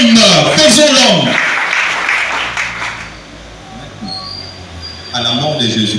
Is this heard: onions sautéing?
no